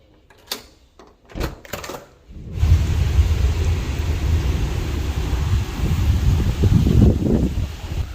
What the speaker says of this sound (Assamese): বাহিৰত বহুত বতাহ দিছে আৰু বিজুলীও মাৰি আছে